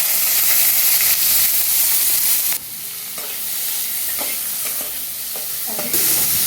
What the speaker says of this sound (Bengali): কড়াইটা গরম হয়ে গেলে একটুখানি তেল দিয়ে দিয়ে এই ভেজে রাখা ক্যাপসিকাম, গাজর, পেঁয়াজ, মটরশুঁটি ওই তেল